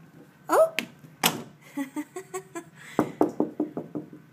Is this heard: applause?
no